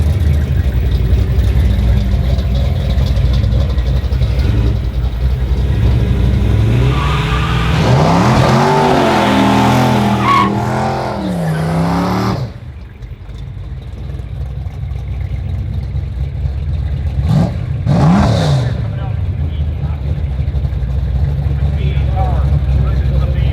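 A Datsun 280ZX with a 350 Chevy V8 engine roars through a drag race, rising revs sweeping up and falling away, then a second rev burst, over a rumbling background with people talking.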